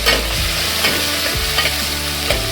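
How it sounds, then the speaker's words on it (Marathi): Crushed garlic cloves, ten to fifteen of them, sautéing in hot oil in a pan for a spicy tiny-prawn (kolim) curry, giving a steady close sizzle with a few stirring scrapes and no talking. "10-15 लसणाच्या पाकळ्या ठेचून घातल्या, लसूण टाकलाय"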